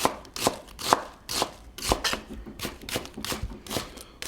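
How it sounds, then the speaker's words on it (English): A knife thinly slicing a whole onion on a cutting board, giving a quick, steady run of crisp chopping taps, close and clear with no talking. "we're just gonna slice some onion thinly."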